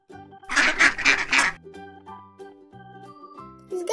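Rapid bursts of loud duck quacking, several harsh calls in quick succession, followed by a soft background melody.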